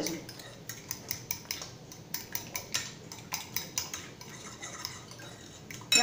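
Cornmeal cake batter with melted margarine being beaten in a bowl, a utensil clinking against the sides in a quick steady rhythm of taps and scrapes, close and fairly quiet with no talking.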